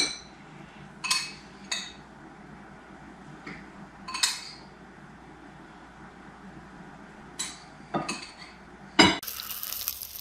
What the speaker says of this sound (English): Little breakfast going on the griddle.